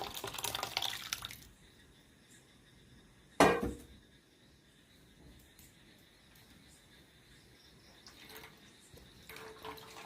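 Mashed coconut milk liquid being poured, a faint liquid trickle and splash with one brief louder splashing burst, quiet dribbling afterward and a soft voice at the very start.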